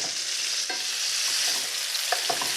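Pork tenderloin sears in an oiled pan with a steady, bright sizzle that fills the whole moment. A few soft crackles and pops rise through the hiss, close and loud, with no voices.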